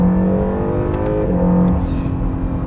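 A 2019 Acura NSX supercar pulling away, its engine note loud and close as it revs and rises steadily under a continuous roar.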